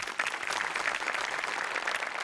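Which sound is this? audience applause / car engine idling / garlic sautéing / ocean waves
audience applause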